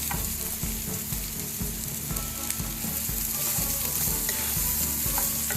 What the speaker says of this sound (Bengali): ফ্লেমটা বাড়িয়ে দিয়ে এটাকে জাস্ট সটে, মানে জাস্ট একটু নরম অবস্থায় রাখবো